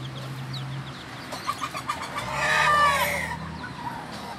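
Young five-month-old fighting roosters making soft clucks, then a short strained crow-like call, fairly faint against steady outdoor background noise.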